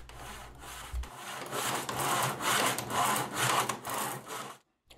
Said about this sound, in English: Then the molding is sawn to length at the appropriate 45 degree angle.